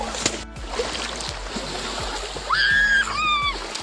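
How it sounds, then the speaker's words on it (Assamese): River water splashes as people and cattle bathe together during Goru Bihu. Irregular splashing and rushing water fill the clip, with a few brief whistling tones near the end. "গৰু চৰু গা ধুৱাই বৰ্তমান ৰাইজে ইয়াতে গা ধুইছে, নদীতে ধুইছে"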